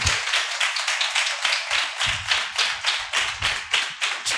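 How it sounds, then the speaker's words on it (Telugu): A church congregation at a Sunday worship service claps in a steady rhythm. Loud, crisp group claps repeat about three times a second for several seconds and are heard alone. "చప్పట్లు కొట్టి దేవుని నామాన్ని."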